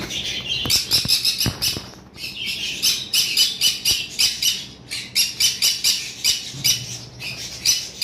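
Caged Fischer's lovebirds, including an albino red-eye and a green bird, give loud, shrill rapid squawks in repeated close bursts with short pauses between them, a few dull knocks sounding early and no talking.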